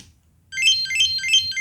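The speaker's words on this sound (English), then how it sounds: "you just press any button on the remote to make it stop ringing" An onn Google TV 4K Pro remote rings from its remote-finder function after a short silence, giving a loud, bright repeating chirp in quick even pulses.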